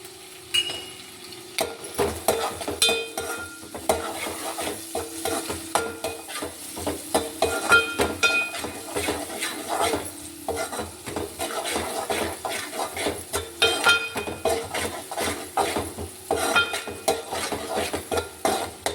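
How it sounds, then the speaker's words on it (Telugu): Sliced onions and curry leaves frying in a pan with turmeric for a bhindi dish, with a steady sizzle and frequent scraping, clinking stirs of a spoon against the pan throughout, close and fairly loud, with no talking. "ఉల్లిపాయలు వేసి కరివేపాకు కూడా వేస్తున్నాను."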